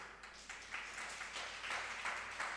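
Listeners at a Jain monk's morning sermon in Kharupetia, Assam, clap together in a soft, continuous patter of many hands, quiet and somewhat distant throughout.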